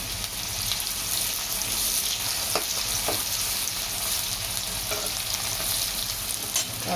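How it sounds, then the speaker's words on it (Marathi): Onions, green chillies and curry leaves fry in a pan for homemade pohe, giving a steady, close hiss that runs through the whole stretch, with a few soft clinks of stirring. "कांदा लालसर थोडासा रंगावर भाजून घेऊया"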